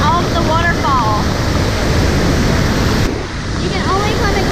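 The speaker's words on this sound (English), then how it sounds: "And this is not rain. This is just off the waterfall." Spray and rushing water at Niagara Falls on the Cave of the Winds walk, a loud continuous roar with heavy wind buffeting on the microphone and faint voices underneath.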